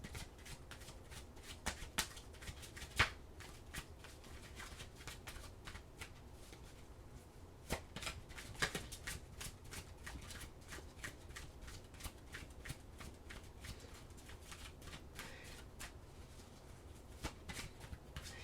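Oracle cards being shuffled nearby at a quiet level, a long run of soft riffling with sharper slaps and snaps of the deck scattered throughout.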